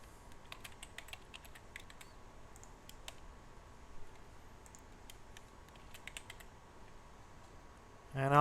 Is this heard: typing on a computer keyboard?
yes